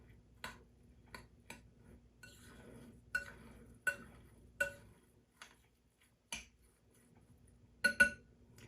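Basil and chickpea mix being stirred into crumbled tofu in a bowl with a utensil, giving sparse, distinct clinks and scrapes at irregular intervals, quiet and close, with no talking.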